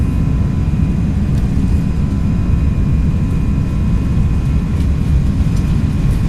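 Airbus A319 jet engines roaring at takeoff thrust on a cold-weather departure in X-Plane 12, a steady loud low rumble with faint whine, continuous and unbroken throughout.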